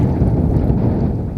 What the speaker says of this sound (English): The wind is really starting to gust downstream now